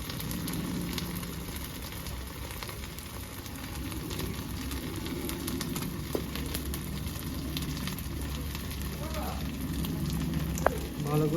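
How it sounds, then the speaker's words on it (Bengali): Steady sizzle and crackle of water poured into a pan of frying ground cumin, coriander and chilli powder for a village-style fish and cauliflower curry, continuous and close, with faint talk underneath. "এবার দিয়ে দেবো জল"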